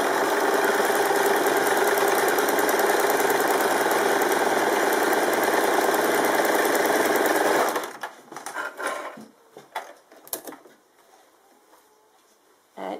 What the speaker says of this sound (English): we're just going to sew along a second row so you can see how simple this process is if you're starting from scratch.